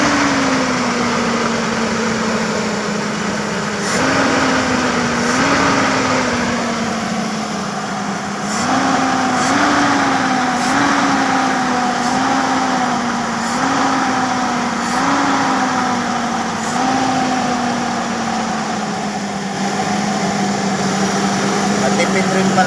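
A carburetor engine runs after a restart, idling steadily and close, with several brief throttle blips nudging its pitch up.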